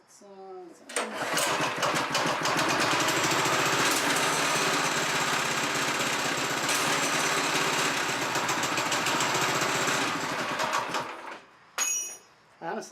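A Predator 212cc clone small engine, governor removed and fitted with a timing key, starts and runs at a loud, steady clattering rev for about ten seconds before cutting off, followed by brief sounds.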